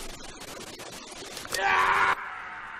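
A man lets out a sharp, strained scream of pain that rises suddenly, holds for about half a second, and breaks off abruptly.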